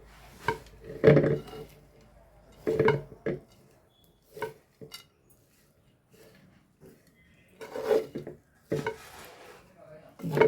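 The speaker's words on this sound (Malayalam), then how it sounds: "ഇതെല്ലാം കൂടെ നമുക്കൊന്ന് മിക്സ് ചെയ്തെടുക്കാം" Beaten rice (aval vilayichathu) being mixed in a pan, heard as intermittent bursts of scraping and stirring with soft sizzling, separated by quiet gaps, close by and without speech.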